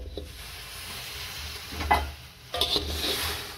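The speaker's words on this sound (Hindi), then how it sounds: "अब इसमें हम जो गुड़ है 500 ग्राम वो शामिल करेंगे।" Jaggery is stirred into warm water in a pot for flax seed pinni, a soft sizzling hiss with a few scraping, clinking stirs of a spoon against the pot, close and unaccompanied by speech.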